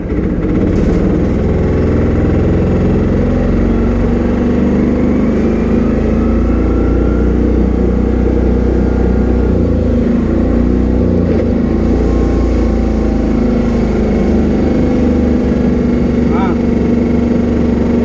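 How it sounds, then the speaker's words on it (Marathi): A tempo van starts up and pulls away near Sakhartar in Ratnagiri: a loud, steady engine drone with low rumble runs throughout, and people talk over it. "आता टेम्पो सुरू करणार डोर बंद कर आणि गाडी जाणार घरी"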